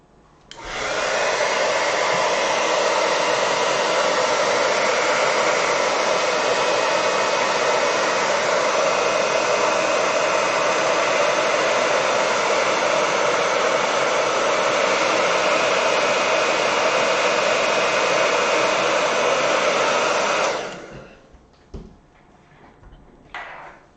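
A hair dryer blows steadily on a watercolor snowy landscape painting, a loud continuous whooshing roar lasting about twenty seconds before cutting off, followed by quiet handling noises.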